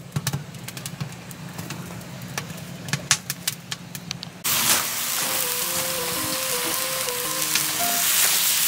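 Jjukumi and pork sizzle on a cauldron-lid grill during a countryside stay in Gangwon-do. After a quieter stretch of scattered clicks, a loud, close sizzle suddenly bursts in and keeps frying steadily, with a faint tonal hum underneath.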